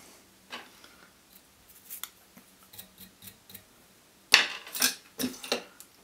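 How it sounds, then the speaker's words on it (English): Scissors snip while trimming fly-tying material on a muskrat nymph at a tying bench, a few light clicks early on, then a close, crisp cluster of sharper cuts near the end. "scissors, and now I want to just trim this down"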